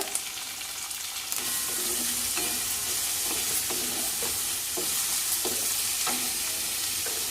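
Onions and green chillies fry in a pan with a constant close sizzle, broken by repeated light scraping and clinking as the pan is stirred.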